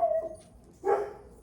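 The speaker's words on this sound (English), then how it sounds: "that's my neighbor's dog." A neighbor's dog barks twice nearby, a short whimpering yelp followed by a louder single bark, with quiet pauses between them.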